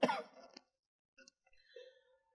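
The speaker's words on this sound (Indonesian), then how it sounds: "saya mau batuk dulu ya, mohon izin" A speaker gives a short cough in an indoor religious lecture, a loud burst followed by a few fainter throat sounds and small breathy noises, with no speech.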